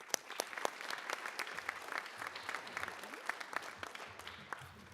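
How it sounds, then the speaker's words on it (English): A fairly small audience at a school board meeting applauds, the crisp individual claps distinct and fairly quiet, with faint murmuring voices underneath. "I would like to give a round of applause for State Representative Andy Hopper."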